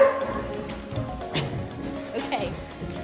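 A dog gives a few short barks and yips, close by, while a person speaks over them.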